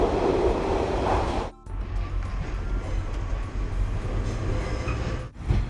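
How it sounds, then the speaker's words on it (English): Steady low rumble and rattling of a moving passenger train approaching Sheffield, heard from inside the carriage, with brief dips as it passes under something. "we're on this train for 53 3 minutes"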